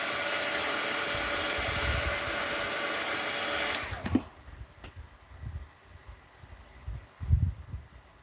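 A heat tool blows hot air over melted crayon and thick embossing powder on paper, a steady loud whoosh that cuts off about halfway, leaving faint rustles and light handling sounds.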